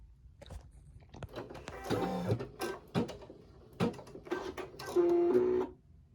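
A Brother NS115 embroidery machine whirs and clatters in short mechanical bursts with pauses while stitching, ending in a brief steady electronic beep, fairly quiet and close.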